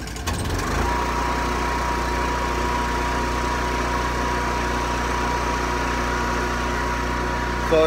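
A small portable generator engine starts up and settles into a steady, loud, continuous drone with a constant low hum, running alone without speech for several seconds.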